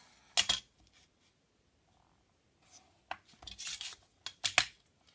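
Scissors cutting, heard as a few short crisp snips and rustling bursts close by, separated by quiet gaps.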